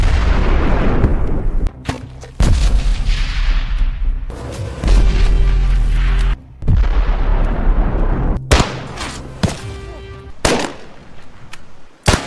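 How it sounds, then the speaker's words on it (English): Gunfire is exchanged in loud, booming shots and bursts at irregular intervals, echoing for about twelve seconds. "the two exchange gunfire until they both run out of ammunition"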